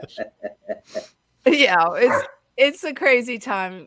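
A dog barks in four quick sharp yips at the start, then people talk with no further barking.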